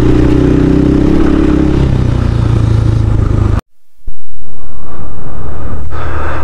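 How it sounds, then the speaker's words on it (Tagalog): A KRY 200 motorcycle engine labors up a rough road near rice terraces in Lobo, Batangas, a loud steady drone that cuts out abruptly for a moment, then returns at a harsher, higher rev. "Kaya-kaya ng motor natin dito mga kapanalig."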